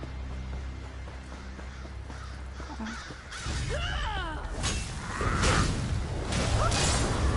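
Crows cawing in The Elder Scrolls Online game, several harsh calls ringing out over swooshing and rumbling game sounds, growing busier and louder toward the end.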